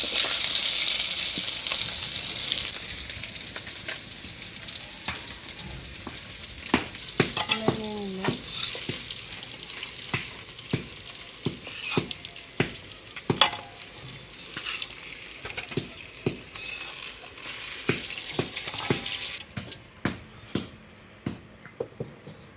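Vegetables sizzle in hot oil with a steady broadband hiss, punctuated by sharp clicks and scrapes of stirring that grow busier midway, then the frying fades to a quieter simmer near the end.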